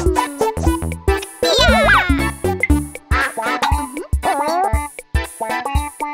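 The cartoon duck character from Pocoyo quacks in a rapid series of squawky, chattering calls that rise and fall, loud and close, with short pauses between bursts.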